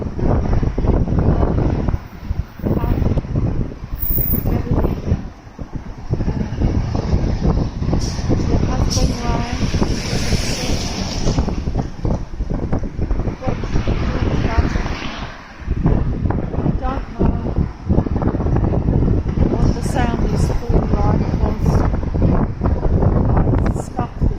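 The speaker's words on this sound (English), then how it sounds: "Wind is blowing up." Strong wind buffets the microphone outdoors in heavy gusty bursts, with traffic rumbling nearby and a person talking throughout.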